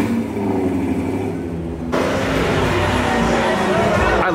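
A Chevrolet Z01 LE car rolls in at a supercar show, its engine a steady broad rumble that swells louder partway through, with voices talking over it.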